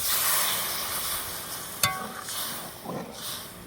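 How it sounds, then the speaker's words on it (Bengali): Broth is poured into a pan of green banana cooked down in spices, giving a steady sizzle and stir with a brief sharp splash near the middle and a softer bubbling burst toward the end, with no talking. "এখন আমি ঝোল দিয়ে নিচ্ছি।"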